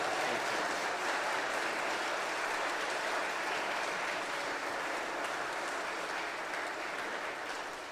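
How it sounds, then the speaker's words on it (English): An audience in Durbar Hall at the Jaipur Literature Festival applauds an author, a thick, continuous wash of clapping at a steady level that tapers slightly at the end. "If we have a big round of applause, please, for Marley Travati."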